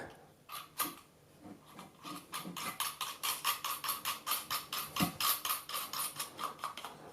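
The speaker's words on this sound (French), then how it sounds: "Maintenant, je vais venir revisser les deux bagues de serrage avec les colliers." Metal threads turning as a clamping ring nut is screwed onto a Garrett ACE 150 metal detector, a run of quick, regular ratcheting clicks that speeds up into a steady rapid clatter, close and fairly loud with no talking.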